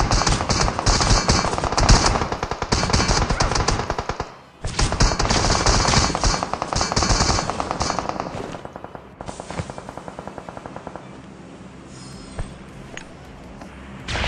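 Rapid automatic gunfire in the BGMI mobile battle royale game, loud sustained bursts of shots with a brief pause, then quieter scattered shots trailing off.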